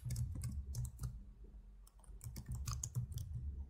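Fingers type code in quick irregular bursts on a computer keyboard, with close, crisp key clicks and a short pause midway, without talk.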